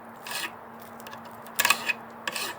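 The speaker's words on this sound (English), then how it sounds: "I'm just combing out the roots now, and then give it a trim." Short, raspy snips come in three separate bursts while roots on a Japanese maple (Acer palmatum) raft bonsai are combed out and trimmed, close up against a faint steady hum.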